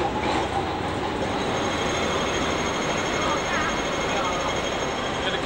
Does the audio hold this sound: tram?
yes